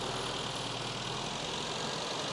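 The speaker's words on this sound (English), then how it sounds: "So guys, we got the little mini driving" A rusty abandoned classic Mini Cooper being restored, heard on its first drive, with its engine giving a steady unbroken droning rumble, fairly close and level in loudness and without talk.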